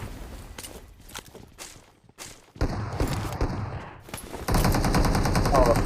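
Rapid automatic gunfire and shotgun blasts in the PUBG Mobile battle royale video game, loud close bursts with footsteps and players talking over the action.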